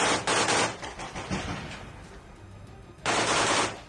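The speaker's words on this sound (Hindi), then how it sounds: "मशीन गन से इस तरह गोलियां चलती दिखाई दी" Machine gun fire in war footage from Ukraine near the Azovstal steel plant, loud rapid bursts at the start and again near the end, with rumbling gunfire between.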